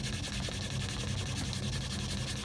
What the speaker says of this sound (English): I like to hear the leather kind of popping a little bit.